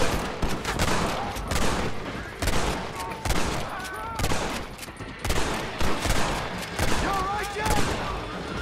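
Dense, continuous gunfire in the Red Dead Redemption video game, rapid overlapping shots and bursts filling the whole stretch at a steady high level, with faint game sounds mixed in.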